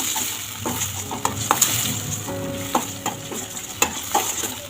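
Thick puliyogare mixture bubbles and sizzles in a pan while a spoon stirs it, scraping and clinking in uneven strokes over a steady frying hiss.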